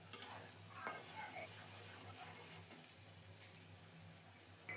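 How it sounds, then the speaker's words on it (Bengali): Okra masala is stirred and fried in a pan, a soft continuous sizzle with faint scraping from the stirring. It is quiet and heard with no one talking. "এখন নেড়ে চেড়ে ভালো করে কষিয়ে নেব।"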